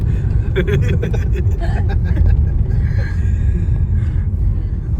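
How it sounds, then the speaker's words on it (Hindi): Dense highway traffic with trucks and bikes roars continuously close by, a heavy low rumble with passing vehicles and occasional hiss, while someone talks over it. "बहुत ज़्यादा ट्रैफिक है।"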